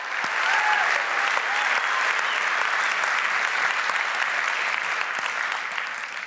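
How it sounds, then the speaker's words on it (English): A conference audience breaks into sustained applause, a dense, even wash of many hands clapping that holds steady throughout and tapers slightly at the end. "Now we can clap."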